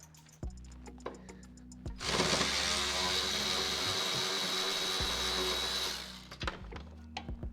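A power tool whirs steadily for about four seconds while removing bolts from an engine cover on a 2018 Honda Accord 1.5L turbo, with softer clanks and handling knocks before and after.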